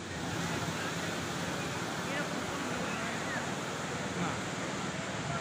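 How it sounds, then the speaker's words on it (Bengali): Ocean surf roars without a break at Kuakata sea beach, a dense, loud, wind-blown wash of breaking waves filling the whole stretch at steady strength. "আপনারা সাগরের গর্জন শুনতে পাচ্ছেন।"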